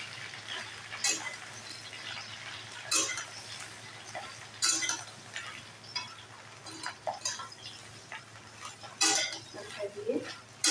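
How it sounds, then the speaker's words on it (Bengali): Taro greens (kochu shak) stirred in a cooking pot, giving scattered metallic clinks and scrapes of a utensil against the pot at irregular intervals over a soft background hum, fairly close and moderate in level. "দিয়ে একটু নাড়াচাড়া করে নেব।"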